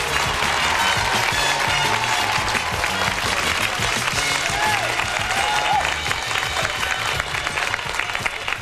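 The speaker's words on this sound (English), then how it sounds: "Kurt, the applause is over now, Kurt." A studio audience applauds at a comedy show after the host is introduced: dense, continuous clapping fills the whole stretch at full volume with no voices.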